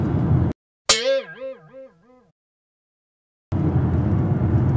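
A plant pot falls and breaks in a new-build home, with one sharp impact followed by a wobbling, ringing resonance that decays over about a second, framed by room noise before and after.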